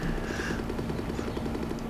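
Helicopters in the Amiga video game POW produce a steady chopping rotor pulse with a droning hum, repeating rapidly and evenly throughout at moderate volume, with no talk.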